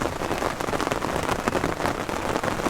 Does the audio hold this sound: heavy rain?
yes